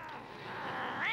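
A cat gives a single short meow that swells and rises in pitch at the end, heard close and on its own.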